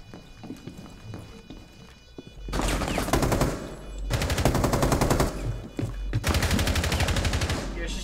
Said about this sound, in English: Yeah, she's still shooting at me.